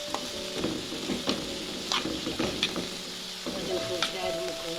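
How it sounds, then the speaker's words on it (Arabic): A filling of red pepper, tuna and Chinese vermicelli sizzles steadily in a pan while a utensil stirs and scrapes it at irregular moments, moderately close and without talk. "غادي نشحر هذا الشيء كامل"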